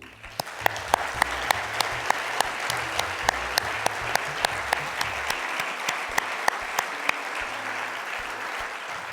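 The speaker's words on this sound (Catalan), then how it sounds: "Jo per ells avui demanaria un fort aplaudiment." An audience gives sustained applause for the staff of the Catalan publishers' guild at the Nit de l'Edició gala, with steady dense clapping and a few sharp, prominent nearby claps standing out above the crowd.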